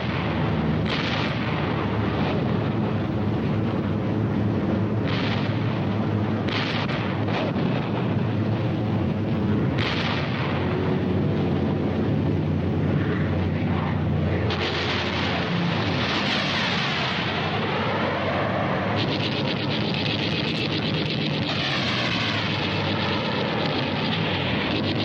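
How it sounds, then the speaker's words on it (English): Explosions of 500-pound bombs skipped into the sides of Japanese ships in a Pacific naval battle, heard as a dense, continuous roar of blasts, rumbling and gunfire-like bursts that stays loud throughout with no talking. "At the critical moment, 500-pound bombs are skipped into the sides of the Japanese ships."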